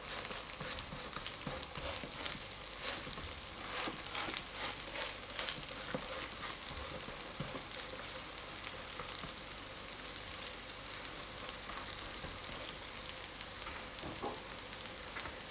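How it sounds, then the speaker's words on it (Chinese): Flatbread crust sizzling and frying in hot oil on a preheated electric griddle, a steady close crackle with scattered pops running throughout, no voices. "电饼铛或者平底锅预热刷油， 油热后放入饼皮，"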